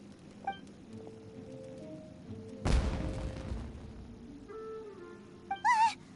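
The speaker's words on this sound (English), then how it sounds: "Was that an explosion? It sounded like fireworks." Fireworks go off in the Genshin Impact video game: a single sharp boom bursts out in the middle, surrounded by quiet game music and short whistling, sparkling effects near the end. No one speaks.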